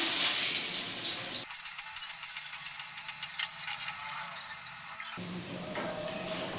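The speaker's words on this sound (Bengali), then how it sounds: "এবার আমি কেটে রাখা আলুগুলো তেলের মধ্যে দিয়ে দিচ্ছি" Cut potatoes coated in salt and turmeric hit hot oil and sizzle steadily, a close, bright frying hiss with stirring scrapes, lasting throughout, no speech.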